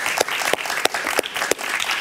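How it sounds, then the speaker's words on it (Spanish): Studio audience applauding on a Spanish-language TV talk show as a liberal Argentine writer arrives as guest; steady dense clapping throughout, close and fairly loud, with a few sharper individual claps standing out. "Un aplauso para él, por favor."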